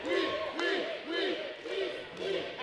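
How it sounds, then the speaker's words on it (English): Wrestling arena crowd at an IHW event roaring and chanting in support of Remy Petit, a charismatic big man, in steady swelling waves of loud massed voices. "And the crowd supporting Remy Petit."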